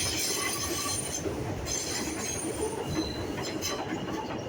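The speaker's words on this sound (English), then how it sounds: "The Woodlawn train!" A Woodlawn elevated subway train in the South Bronx rolls past close by, its wheels squealing shrilly over a loud, continuous rumble and clatter.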